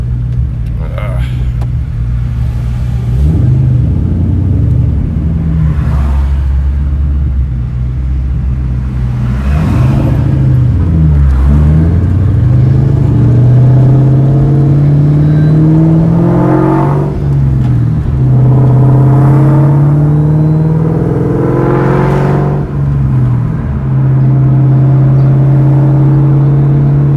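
Ford Mustang SVT Terminator Cobra fitted with a Bassani exhaust and Magnaflow mufflers, its engine revving in several loud, rising bursts over a steady low rumble, with motorcycles nearby and a voice talking over it.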